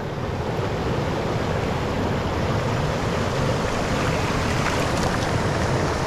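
Steady broadband rush of a waterfall on a Victorian high country stream, continuous and fairly loud with no breaks, like close tumbling water.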